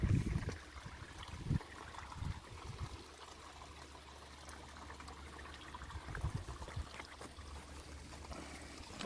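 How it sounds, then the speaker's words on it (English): A small brook trickles steadily through woodland on a circular forest walk, a faint continuous babble of running water with a few soft rustles and thumps from nearby movement. "there's like a little brook that runs down there"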